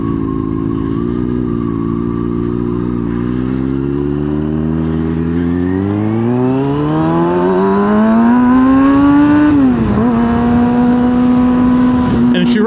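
A 2016 Kawasaki 636 sport bike engine idles with a steady low drone, then revs up and climbs smoothly in pitch, dips briefly and settles into a higher steady hum, loud and close throughout.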